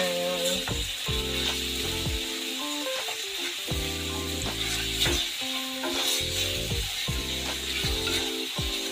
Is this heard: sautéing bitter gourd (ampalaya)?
yes